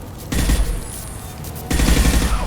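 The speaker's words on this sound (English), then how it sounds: "Taking fire." Two bursts of rapid automatic gunfire ring out in the video game Mass Effect 2, loud and close, split by a short stretch of lighter shots.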